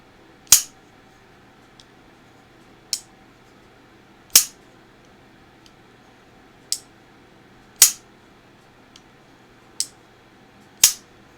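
Sharp, crisp clicks of a folding knife blade closing sound one at a time at irregular intervals, each bright and close, with a few much fainter ticks between them in a quiet room.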